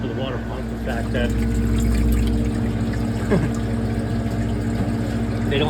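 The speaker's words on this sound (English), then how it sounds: "The water pump's now on." A Manitowoc icemaker's water pump running during the freeze cycle, a steady close mechanical hum with watery circulation beneath it, continuous throughout with a faint voice over it.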